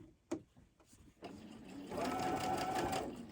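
A sewing machine stitches quilt fabric nearby, starting with a click and a few soft handling sounds, then running into a steady, fast mechanical whir that holds to the end.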